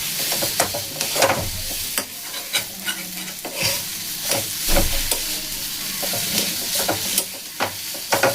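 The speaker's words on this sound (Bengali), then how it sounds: "দেখুন এগুলোকে আবার মিশিয়ে নেব।" A spice mix with garam masala and chili powder is stirred in a hot pan, giving a steady run of scraping, knocking spoon strokes over faint sizzling, close up and without speech.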